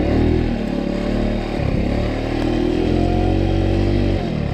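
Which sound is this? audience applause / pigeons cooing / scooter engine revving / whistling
scooter engine revving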